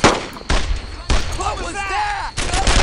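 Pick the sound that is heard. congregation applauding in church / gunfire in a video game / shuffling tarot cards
gunfire in a video game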